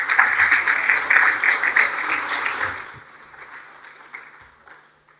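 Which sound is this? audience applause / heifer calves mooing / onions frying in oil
audience applause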